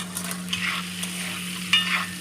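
Eggs sizzle in hot oil in a kadai while a utensil stirs and scrapes through them, with a few sharper clinks over the constant frying hiss.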